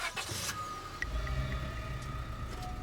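A police squad car's engine in the video game Scarlet Hollow settles into a quiet, steady low hum after a second, with faint thin tones above it.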